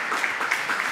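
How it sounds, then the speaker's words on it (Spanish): Applause at a DataBeers Girls4STEM talk in València as a speaker is introduced, a dense, steady patter of many hands clapping through the whole brief moment. "Aplaudiments."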